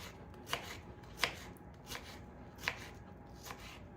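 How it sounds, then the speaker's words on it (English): A knife chops food into small pieces on a board: five distinct, close taps at an uneven, unhurried pace over quiet background. "we'll just cut it into small pieces here"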